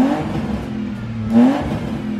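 A drift car's engine idles with a low steady rumble, then briefly revs up and settles back down.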